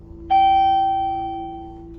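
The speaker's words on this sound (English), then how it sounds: "Yeah, I don't like that chime." Single bright electronic chime from a Classy Armor hydraulic elevator in a Jericho, New York building, a clean tone ringing out and slowly decaying over a low steady hum.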